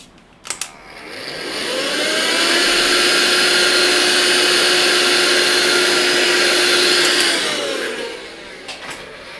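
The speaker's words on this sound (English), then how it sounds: "Let me just vacuum this before I do any more damage." A vacuum cleaner picking up pastel dust switches on with a couple of clicks, runs with a loud steady whine for several seconds, then powers down and falls quiet. It is close and continuous, with no talk.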